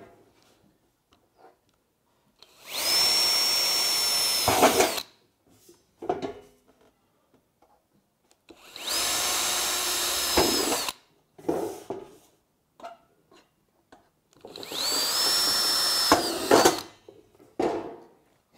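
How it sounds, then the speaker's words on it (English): A power drill bores through the edge of a galvanised steel sheet into timber for a planter box in three separate bursts of a few seconds each: a loud, high whining grind with a rising pitch. Short clicks and handling noises fall between the bursts. "And now we're going to drill through the edge to fasten down our sheet."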